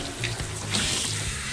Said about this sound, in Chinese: 冲水了